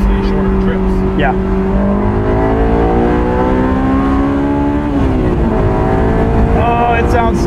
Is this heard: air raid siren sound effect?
no